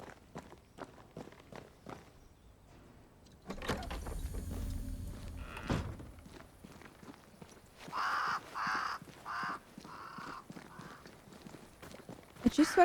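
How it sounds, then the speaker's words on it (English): Crows caw in a video game world (Banishers: Ghosts of New Eden), several harsh calls arriving in a cluster late on, set over footsteps and a thudding impact. "А чё здесь ворон так много?"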